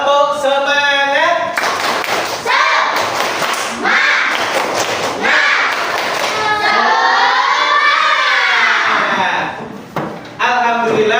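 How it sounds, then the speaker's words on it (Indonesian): Students in a classroom perform a rhythmic spirit clap, loud repeated claps and thumps in patterned bursts mixed with children's chanting voices throughout. "Tepuk semangat."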